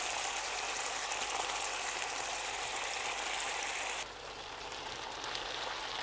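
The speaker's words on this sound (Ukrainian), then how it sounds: "Так, підсмажується гомілка." Steady crackling sizzle of chicken drumsticks frying in a pan for paprikash, close by, with a slight drop in intensity partway through.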